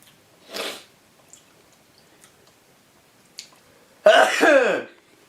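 A loud, close sneeze bursts out near the end. It follows a softer breathy huff and a few small clicks in an otherwise quiet kitchen during home cooking of bigos.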